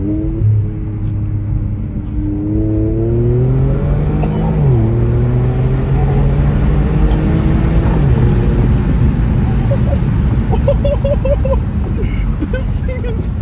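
An Infiniti Q60 Red Sport twin turbo revs and accelerates, its engine note rising and stepping through shifts, loud and close throughout.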